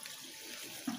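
A small aquarium pump pushes water into a tank of juvenile goldfish, making a faint, steady trickle and splash that runs without pause and with no voices.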